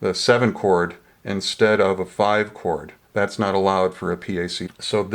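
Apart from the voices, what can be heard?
No distinct noise like a dog, phone or traffic.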